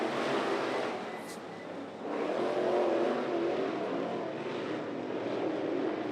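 IMCA modified race cars at speed around the Grays Harbor Raceway dirt oval, a broad, steady engine roar from the pack with a brief dip and swell as cars pass, loud and continuous.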